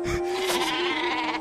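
A sheep in the Worms Battlegrounds video game gives a sustained, quavering bleat, loud and close, layered over busy game sound with no speech.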